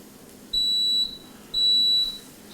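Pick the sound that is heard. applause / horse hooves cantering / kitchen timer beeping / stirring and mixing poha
kitchen timer beeping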